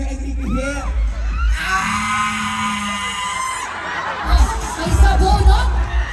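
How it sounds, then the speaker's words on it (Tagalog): A crowd of fans screams and shrieks for a celebrity, Enrique Gil, at the MMFF Parade of Stars, loud and sustained with high piercing cries swelling near the end, mixed with scattered voices. "paano ang sigaw kapag kunwari nag-date kayo ng Enrique Hill?"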